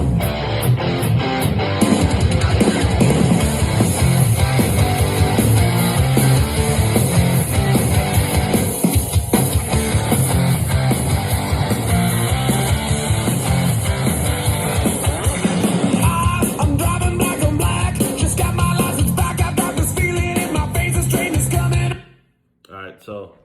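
A Snap-on speaker plays music continuously in a garage setting, filling the room with dense, full sound from start to finish. Its level stays loud throughout, then cuts off abruptly near the end.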